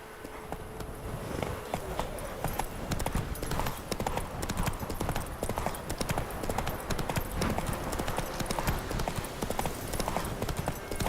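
Horse galloping in The Witcher 3: Wild Hunt, a rapid, steady run of hoof clip-clops on the ground, moderately loud and continuous for about ten seconds under faint ambient game sound.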